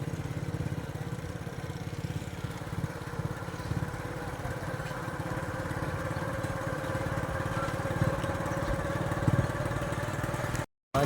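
A scooter engine drones steadily while riding along a road in Pakistani Punjab, a close, continuous mid-pitched buzz with slight fluctuations, cutting out abruptly near the end.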